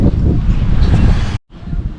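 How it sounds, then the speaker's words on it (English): Loud wind buffets the microphone with a rough, gusty roar, cutting out briefly near the end before resuming. "It is getting windy."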